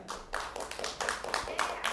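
Scattered applause from a small audience at a county commission meeting, a brief burst of quick claps at moderate distance lasting under two seconds.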